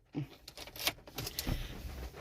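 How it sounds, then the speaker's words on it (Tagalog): A key jingles on its ring and slides into the ignition of an automatic car parked in Park, giving a few light metallic clinks and a short scrape nearby with no voices. "So, papasok natin ang susi."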